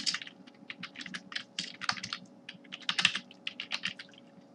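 Rapid, irregular clatter of keys on a computer keyboard as code is typed, the keystrokes coming in quick close bursts at moderate loudness with no talk.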